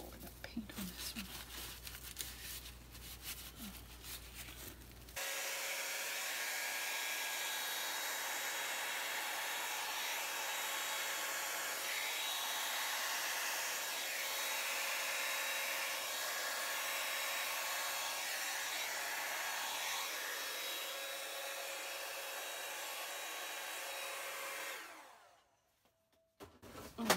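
A hair dryer blows acrylic fluid paint in a bloom pour with cell activator, a steady loud rushing airflow switching on after a quieter start and cutting off near the end, with soft handling rustles before it starts.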